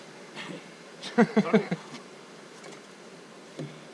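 Honeybees buzz close by during a colony rescue, a cluster of sharp loud bursts early on, then a quieter hum with one more brief buzz near the end.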